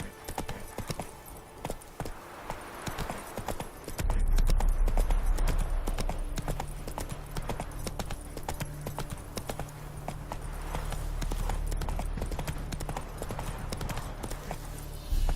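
Hoofbeats of Roach the horse in The Witcher 3, starting as scattered clip-clops and then becoming a rapid, steady galloping rhythm over a low rumble, fairly close and continuous, with a brief voice near the start.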